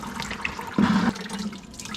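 Coolant drains from a Jeep Wrangler during engine removal and splashes onto the upper control arm, a steady watery pour and spatter that briefly surges louder, close by with no talk.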